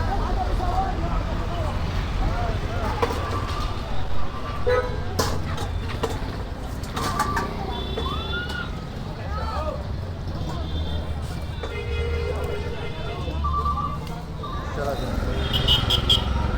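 Busy street in a small rural Egyptian town: a steady wash of passing engines, horns and crowd babble, with faint clip-clop and occasional nearby voices talking throughout.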